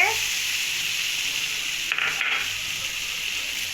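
Tamarind water poured into hot oil for a bottle gourd kulambu, a loud, close, continuous sizzle with brief stirring scrapes partway through.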